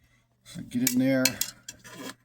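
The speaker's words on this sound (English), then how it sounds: "stir it up, move the powder around, get that out of the way, move it around." Brief metallic clinks and scraping as cement silver powder is stirred around in a rinse container, a close, short burst of tool-on-vessel rattling.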